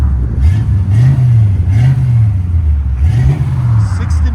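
A 1969 Chevy Chevelle with a 307 V8, true dual exhaust and Flowmaster 40 Series mufflers pulls away, its engine rising and falling through several loud revs close by, a deep throaty rumble throughout.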